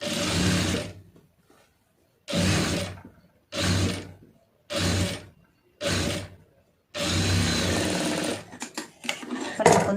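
Sewing machine stitching a lined blouse in six distinct bursts of loud, close whirring, separated by short pauses, with the last run ending in brief stop-start clicks.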